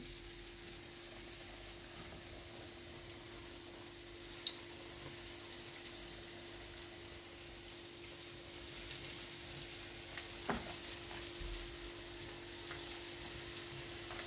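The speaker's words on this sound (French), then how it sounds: "on vient le passer dans une friture bien chaude" Steady sizzling of chicken frying in hot oil, a constant crackling hiss with a couple of brief clicks and a low hum underneath, no voices.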